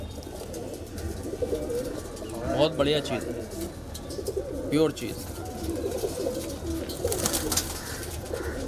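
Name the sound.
kalpare high flyer pigeons cooing in a loft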